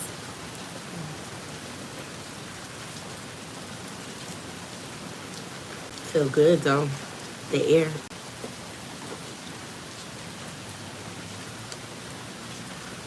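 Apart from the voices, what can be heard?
heavy rain falling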